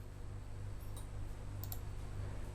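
Computer mouse clicking while working in Microsoft Publisher, a couple of faint, quick clicks over a steady low background hum.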